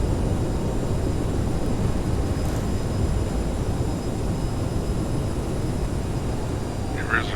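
CRJ 900 thrust reversers deploy on a landing rollout, a steady loud broadband engine roar that holds throughout without letting up.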